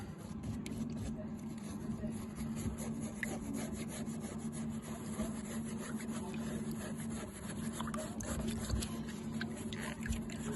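A simple paintbrush scrubs surface rust off steel that has soaked in vinegar for about two weeks, giving a faint, continuous rasping and rubbing sound with no clear pauses.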